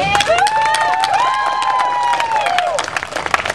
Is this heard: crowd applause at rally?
yes